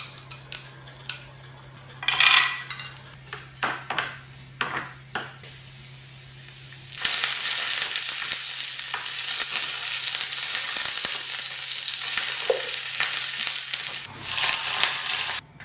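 Curry leaves drop into hot tadka oil already holding mustard seeds and peanuts. Scattered clinks and taps come first, then a loud, sudden burst of continuous crackling sizzle that holds steady to the end.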